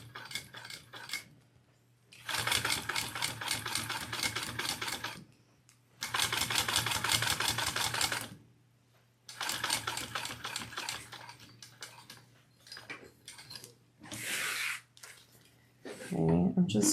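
A sewing machine stitches vinyl for a crossbody bag, running in three steady whirring bursts separated by pauses, with a person talking quietly in between.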